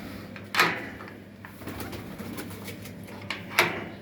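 Pigeons coo softly in a loft aviary, low murmuring calls under a faint background hum, with two brief sharp clicks or wing flutters standing out.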